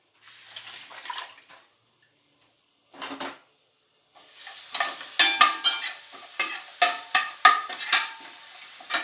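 A spoon scrapes and stirs mutton gravy masala frying in a pan, at first in short sparse bursts separated by silence, then in a steady run of close, sharp strokes over a sizzle.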